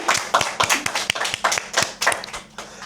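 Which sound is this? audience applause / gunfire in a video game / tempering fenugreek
audience applause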